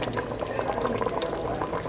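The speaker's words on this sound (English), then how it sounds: "I'm gonna probably add some more water because it looks like it's drying out a bit" Water poured into a pot of simmering oxtail gravy, a steady splashing, bubbling stream heard up close for a couple of seconds, with no one talking.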